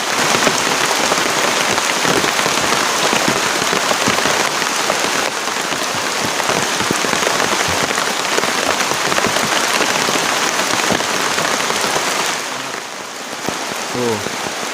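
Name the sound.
heavy rain falling on a camping tent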